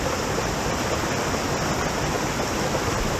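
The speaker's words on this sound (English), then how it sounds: "And there's a creek over here." Creek water runs steadily near Wild Burro Falls, a dense, unbroken rushing wash that holds an even loudness throughout, with no voices or other sounds breaking through.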